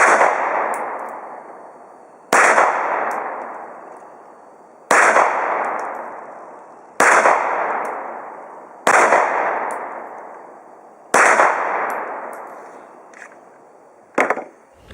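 Remington RP9 9mm pistol fired at a range, six sharp loud shots spaced about two seconds apart, each with a long ringing decay, then a fainter final report.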